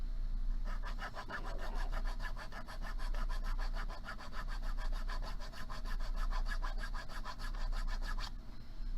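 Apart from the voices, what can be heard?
metal filing with a half round file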